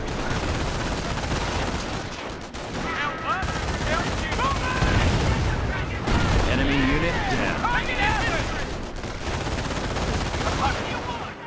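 Dense, continuous machine gun fire and scattered gunshots from a Company of Heroes battle during the Normandy landings at Vierville, with rapid bursts overlapping throughout and voices mixed into the din.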